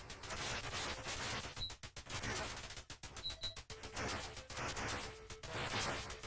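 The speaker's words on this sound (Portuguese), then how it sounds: "Os efeitos sonoros também não ajudam muito. Tiros simples, explosões" Shots and explosions from the arcade shooter game Vulgus, a dense, continuous stream of sharp blasts and crashes with frequent brief pauses, loud throughout.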